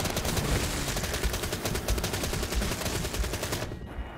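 Shotgun blasts and other weapon fire roar in Call of Duty: Black Ops 3's Dead Ops Arcade 2 mode, a dense, loud, continuous barrage of rapid shots that cuts off abruptly at the end.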